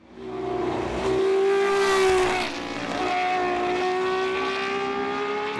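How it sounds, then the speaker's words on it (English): A Matra MX650 race car with a V12 engine howls past at the Spa-Classic, a loud, high-pitched scream that rises, dips sharply, then climbs again as the car accelerates through the gears. "Just for the sound, let's close the CR1 chapter with a Matra MX650 and its V12"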